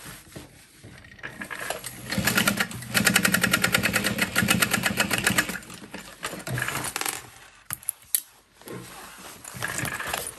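Sewing machine top-stitching through the exterior fabric piece of a backpack, a close rapid mechanical chatter in bursts of a few seconds, with small clicks and handling noises between runs.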